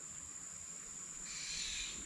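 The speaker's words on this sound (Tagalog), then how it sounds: "Daming ibon." Faint high-pitched chirping from birds in a large tree comes through steady outdoor ambience, growing a little busier toward the end.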